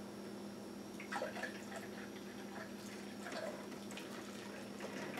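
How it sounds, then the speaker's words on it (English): Juice dripping and trickling from a juicer's pour spout during pouring, heard as faint, sparse liquid drops and light splashes over a quiet background hiss, close by. "Now we're dripping some juice there."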